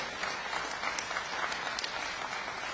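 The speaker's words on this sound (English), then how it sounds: "Can you give them a round of applause" An audience claps steadily for the mayor's staff at a transportation levy bill signing, with dense, even applause sustained throughout and no speech over it.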